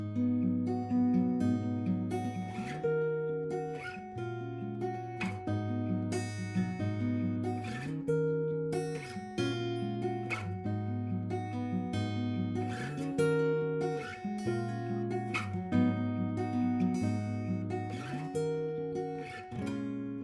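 Finger-picked acoustic guitar plays a song, a thumb-driven bass note under a repeating arpeggiated pattern, steady and clear for about twenty seconds with no talking.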